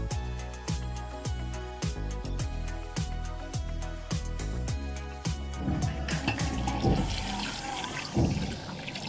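About a glass and a half of water pours into a pot of kachnar keema seasoned with turmeric. A soft, close splashing rush builds in the latter half, after a stretch of rhythmic tapping.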